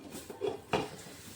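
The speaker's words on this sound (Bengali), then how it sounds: "একটা ঢাকনা দিয়ে আমি ঢেকে দিচ্ছি" A metal lid settles onto an idli steamer pot with a brief scrape and a single clanking knock, close and fairly quiet.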